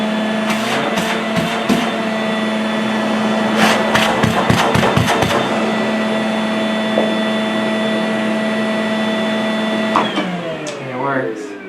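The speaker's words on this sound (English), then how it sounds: "this is going to be a sound test on the vacuum on the lowest mode" A Makita 36V wet/dry vacuum cleaner (DVC152LZ) runs steadily on its lowest mode with a constant hum, close by, with clicks and handling knocks in between, then winds down at the end.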